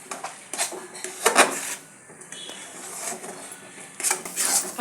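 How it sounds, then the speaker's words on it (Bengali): Food stirred in a pan over a high gas flame with mustard oil, heard as uneven bursts of spatula scraping and clatter against the metal pan, close by, with quieter gaps between strokes. "এবার গ্যাসের ফ্লেমটাকে জোর করে দিয়ে আমরা আরো ভালো করে নাড়াচাড়া করে নেব।"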